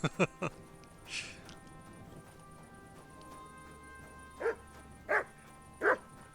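Dog barks in the Kingdom Come Deliverance 2 video game: a quick burst of three barks, then three more spaced apart a few seconds later, moderately close over a quiet ambient game background.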